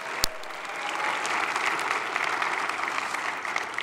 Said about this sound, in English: Let's have another round of applause for all of our Fusion Forum participants.